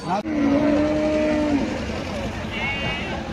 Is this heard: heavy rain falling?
no